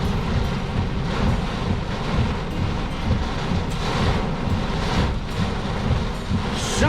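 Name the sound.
heavy rain and thunder during tornado-warned storm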